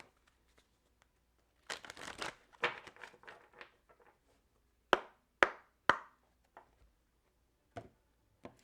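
A deck of tarot cards being shuffled gives off quiet bursts of papery riffling, followed by several crisp, separate snaps and taps of cards against each other, with hushed pauses between.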